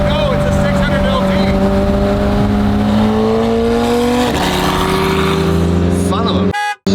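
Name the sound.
McLaren 600LT accelerating at full throttle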